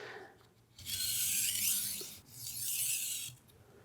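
A Victorinox Fibrox 8-inch chef's knife is drawn across a 5000 grit whetstone in two long, smooth rasping strokes, close and soft, with a short pause between them.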